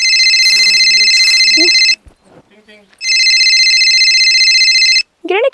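A telephone rings in a village home with two long, loud electronic trills separated by a pause, and a voice speaks briefly in the gap and after the second ring.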